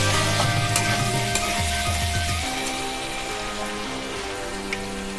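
Chopped cabbage and soybean chunks fry in a pan with salt and turmeric, giving a steady close sizzle; a spatula scrapes and stirs in quick strokes during the first half, then the frying settles into an even hiss.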